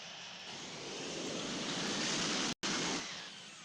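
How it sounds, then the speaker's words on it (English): Jet engines of an Air India airliner roar through a takeoff in the Infinite Flight simulator: a steady, broad, loud rush that swells gradually, with one abrupt instant of silence near the end. "Air India 198 is taking off runway 35, departing straight out"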